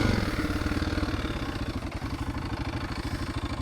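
A motorcycle engine, an XR600R or XT600 Ténéré on a desert rally in Tunisia with a slight engine noise, runs with a steady, rhythmic low thumping pulse, close and continuous, no voices.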